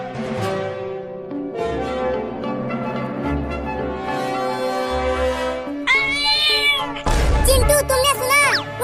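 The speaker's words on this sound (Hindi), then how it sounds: "वो छोटी बिल्ली अभी अभी बोली" A small kitten meows several times, high thin cries over a soft background, with louder, sharper mews toward the end.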